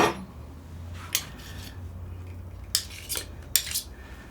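A spoon picked up among cutlery: a few light metallic clinks and rattles, spaced apart over a quiet kitchen background, fairly close and soft, with no talking.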